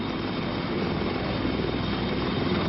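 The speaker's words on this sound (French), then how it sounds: "Il a fallu plus d'une cinquantaine de rotations d'hélicoptères pour débarquer les derniers contingents français du porte-avions Foch" Military helicopters shuttle French troops from the aircraft carrier Foch, anchored off the port of Beirut, to shore in 1982. A continuous loud roar of rotors and engines holds steady throughout, with no voices.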